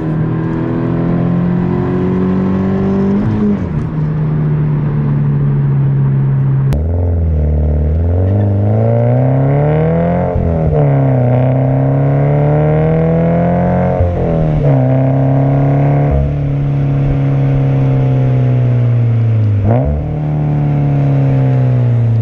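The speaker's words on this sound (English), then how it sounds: "the Invidia N1 is not a loud exhaust whatsoever" A Subaru BRZ fitted with an Invidia N1 exhaust accelerates hard through several gears, each pull a rising engine drone broken by short drops at the shifts, loud and close with no talking.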